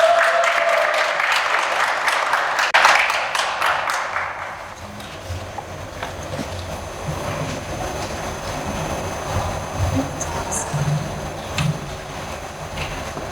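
Audience applause for a speaker at a Korean speech contest, a burst of clapping that fades after a few seconds into quieter room sounds and scattered noises.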